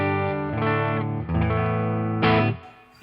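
Electric guitar on the neck pickup, played direct through a NUX Cerberus pedal and Amp Academy on a blackface-style amp model with a little reverb. Sustained chords ring out and shift, ending with a fresh strummed chord that decays away.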